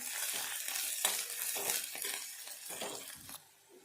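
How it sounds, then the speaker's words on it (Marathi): Lengthwise-sliced onion fries in oil in a pan for an eggplant curry, giving a dense, steady sizzle with intermittent stirring scrapes, fairly close, easing off near the end. "आता हा आपण इथे छानपैकी लालसर होईपर्यंत फ्राय करून घेणार आहोत"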